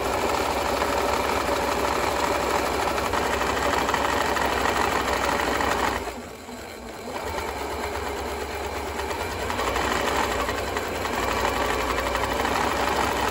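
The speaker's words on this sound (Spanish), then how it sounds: "Tengo los hilos hacia atrás y comienzo la costura del ruedo" Electric sewing machine stitching the hem of a trouser leg, a steady loud mechanical whir running nearly throughout, with a brief dip and pause midway before the stitching resumes.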